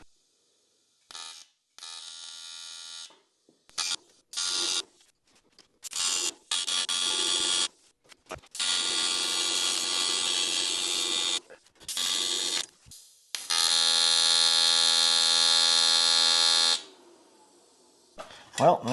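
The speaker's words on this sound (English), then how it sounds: "Let's see if I can weld two pieces together." Two pieces of metal being welded give a loud, harsh buzzing crackle in repeated bursts of varying length separated by silences, with the longest steady run near the end.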